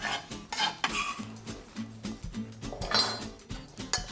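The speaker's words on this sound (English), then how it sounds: "Stir this whole thing together." A spoon stirs a caprese caper vinaigrette with oil in a bowl, giving quiet irregular clinks and scrapes against the dish over a few seconds, close up with no voices.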